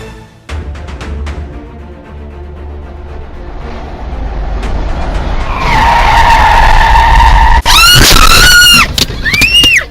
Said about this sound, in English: The moment a big rig flipped on I-95 was captured on dashcam, unfolding in just seconds.